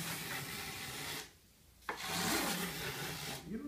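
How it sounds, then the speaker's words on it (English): A hand plane shaves wood along an aircraft wing's leading edge, giving close, steady rasping strokes that break off in a short pause and then resume. "Again, I'm planing down where it's sticking out the most."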